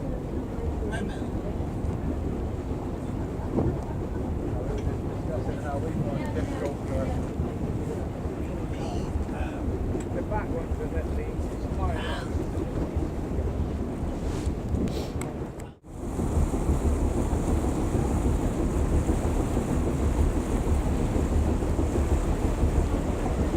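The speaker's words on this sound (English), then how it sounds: "Indeed it is raining." Rain falls during a river boat trip on the Dart near Greenway Quay, a steady broadband hiss with wind buffeting the microphone throughout and a brief dropout near the end, no voices clearly standing out.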